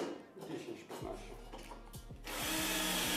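A power drill with a 6 mm bit bores holes in profiles; after a quiet second it starts up with a loud, steady whirring broken by short bursts, swelling to a harsher whine toward the end.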